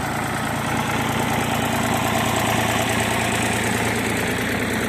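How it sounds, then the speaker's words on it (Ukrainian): A small tractor engine idles steadily and close by, a continuous low rumble with a rapid rhythmic knock, with no voices. "Такий тракторець."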